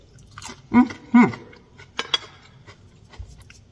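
Close crunchy chewing of a crunchy wonton taco bite, a few loud bites then softer crunches, with no talking.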